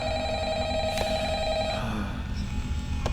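An old-fashioned telephone rings in the Five Nights at Freddy's horror game, a loud, steady electronic bell tone that holds and then cuts off partway through, leaving a low background hum.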